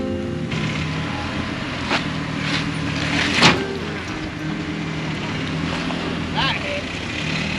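A Jeep crawls off-road through snow and over rocks. Its engine gives a steady, moderately close drone, with wind noise and short bursts of people talking over it.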